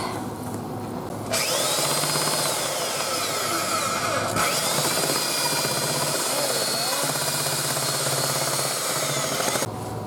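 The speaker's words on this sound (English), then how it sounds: "now we gotta hope this bigger drill works" A larger power drill bores steadily through material during a vintage truck camper remodel, one continuous loud whir lasting several seconds with a brief dip midway, and faint talk beneath.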